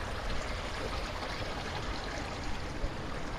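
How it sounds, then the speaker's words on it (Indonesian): Spring water pours from a spout at a sacred spring bathing spot, a steady, close rushing splash with no breaks and no voices. "air yang keluar dari pancuran, tempatnya disebut bag-bagan untuk mandi"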